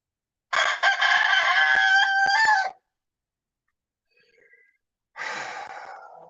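A rooster crows loudly and close by early on a Sunday morning, one long two-second call, then near silence and the start of a second crow.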